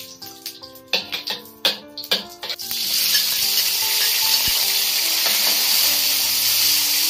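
Pork liver hits hot lard in a home kitchen wok, bursting into a loud, steady sizzle that holds close and continuous after a few clattering stirs at the start.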